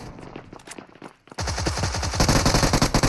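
Rapid automatic gunfire in a video game defending the Galata Tower against a crowd, a few scattered shots followed by a sustained loud, close burst of evenly spaced rounds.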